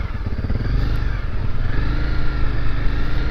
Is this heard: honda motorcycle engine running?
yes